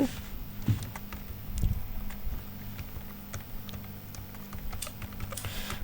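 Keys clatter in quick, uneven bursts on a computer keyboard while text is entered into an upload form, soft and close with a low hum underneath.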